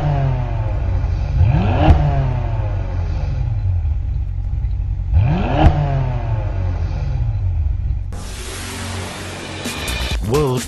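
A BMW M-Division 4.4-litre twin-turbo V8 revs hard twice, each sweep climbing and falling over a deep rumble, with a steady engine drone between and a hissing burst near the end.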